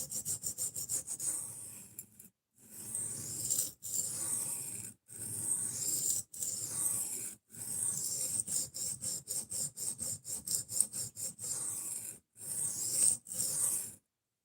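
A dull knife is sharpened on a 400 grit stone, giving repeated close scraping strokes in steady bursts with short pauses between them.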